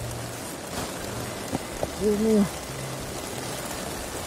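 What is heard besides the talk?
heavy rain at night on a mountain in Colombia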